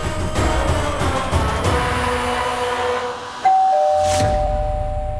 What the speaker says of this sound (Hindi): घंटी बजी, टिंग